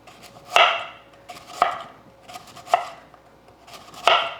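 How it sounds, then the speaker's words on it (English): A knife thinly slicing a vegetable for a holiday side dish, four crisp, evenly spaced cuts about a second apart, each a sharp close thump on a board with quiet between. "you want to thinly slice this"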